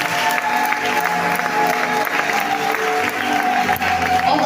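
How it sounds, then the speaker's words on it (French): A church congregation at a French-language service bursts into sustained applause, dense steady clapping from a sizable crowd with scattered cheers mixed in, filling the room without pause. "Est-ce qu'on peut acclamer pour Dieu?"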